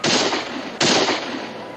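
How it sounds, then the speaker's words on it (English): Two sharp, loud gunshot-like cracks from a garrison in a 1969 western drama, less than a second apart, each followed by a brief echoing decay. "Shots are coming from the garrison, all right, but they're not shooting at us."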